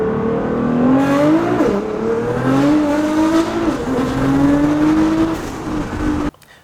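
A 1300 wheel horsepower GTR race car accelerates hard from inside during a ride-along, the engine climbing through repeated gear changes with loud, rising pulls and brief dips between shifts, ending abruptly.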